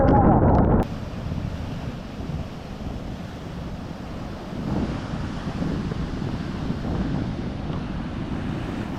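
Sea surf rumbles steadily close by against a breakwater on an eroding shore, heavy wind buffeting the microphone over the constant wash of crashing waves.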